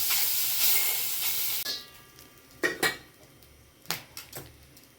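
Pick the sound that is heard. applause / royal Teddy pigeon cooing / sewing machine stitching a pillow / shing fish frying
shing fish frying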